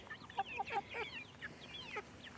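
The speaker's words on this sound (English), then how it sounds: "These birds just like following me everywhere." Chickens in a garden cluck softly nearby, a few short, quiet clucks and murmurs scattered over a faint background with no speech.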